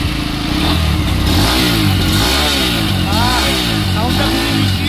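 A Bajaj N125 motorcycle's engine is heard up close at a showroom, revving so its pitch rises and falls in repeated swells over a constant running drone.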